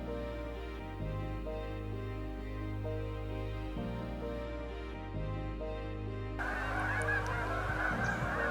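Geese honk repeatedly outdoors in early-October deer-hunting country, a steady layered chorus of calls over a constant low rumble, with a brighter burst of activity near the end.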